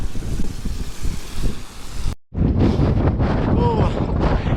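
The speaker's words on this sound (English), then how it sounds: "Oh, the wind." Strong wind buffets the microphone on the Pembrokeshire coastal path, a loud roaring gust that cuts out briefly and then returns as a person speaks over it.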